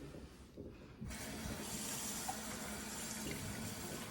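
Water suddenly starts pouring from a tap after a brief quiet moment, then runs steadily with a soft hiss.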